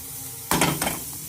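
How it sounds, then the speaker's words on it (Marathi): A kadhai wok set down on a stovetop to heat in a home kitchen, one brief metallic clank with a short rattle, fairly quiet against soft room hiss. "कढई तापायला ठेवल्या."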